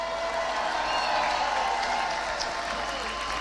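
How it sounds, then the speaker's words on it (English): Audience applause after a call for a round of applause for Palestinian medics at a public address, a steady broadband wash of clapping held at an even level throughout. "So can we just have a round of applause for all the Palestinian medics?"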